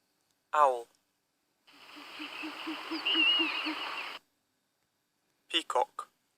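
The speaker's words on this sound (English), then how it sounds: "owl," An owl hoots in a steady rhythm of soft, low hoots over a hissing, rustling night background, with short spoken words before and after.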